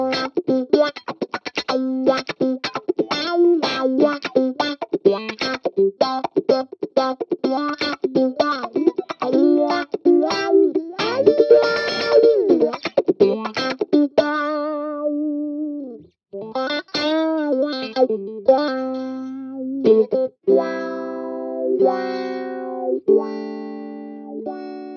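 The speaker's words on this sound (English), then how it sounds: "let's show you some wah-wah sounds from the AxeFx2" An electric guitar runs through an Axe-Fx II wah-wah effect with no reverb, clean tone, fast picked notes and chords with sweeping vowel-like filter shifts, then slower sustained notes close and dry.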